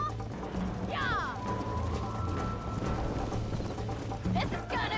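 Hoofbeats clop rapidly from a galloping horse during a race in the video game Red Dead Redemption, a steady drumming under game sound, with a horse whinny and other effects mixed in.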